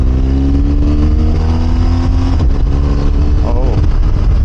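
A BMW R 1250 RS boxer motorcycle pulls hard out of a turn, its engine note climbing steadily and then shifting up through the quick shifter, loud and close under wind rush.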